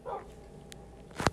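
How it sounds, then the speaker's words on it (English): A dog in the Minecraft video game lets out a short bark near the end of a quiet stretch, a single brief yelp rising over faint background game sound. "I hear a dog."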